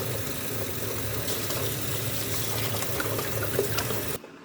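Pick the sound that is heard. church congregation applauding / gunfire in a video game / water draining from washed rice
water draining from washed rice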